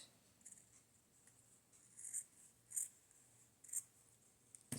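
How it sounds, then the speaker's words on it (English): Sharp scissors snip through fabric trim on a small handmade journal, a few quiet, crisp cuts spaced apart against near silence. "So let me get my sharp scissors and cut that."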